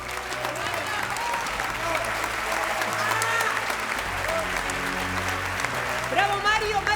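A standing theatre audience applauds continuously, a dense wash of clapping that runs throughout, with a voice speaking over it and a few cheers near the end.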